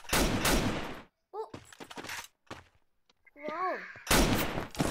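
In the Free Fire video game, bursts of gunfire come in short, loud volleys at the start and end, with gaps between them where a person makes brief voiced exclamations.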